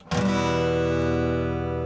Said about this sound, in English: chord, whereas a minor that sounds like this